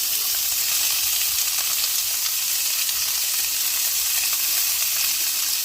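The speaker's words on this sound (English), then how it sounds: "This oil, this grapeseed oil is popping, honey. So I'm going to add that in there. With those white onions." Sliced white onions sizzle in hot grapeseed oil in a skillet, giving a steady, loud, close hiss with faint crackles and no voices.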